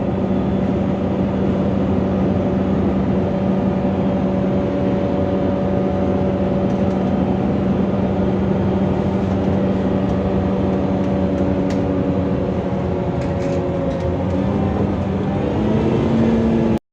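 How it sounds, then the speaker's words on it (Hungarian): Steady engine drone inside a moving bus on a rainy summer day, a constant low hum with a sustained whine, continuous and fairly loud throughout with no talk. "Ez jó a busz."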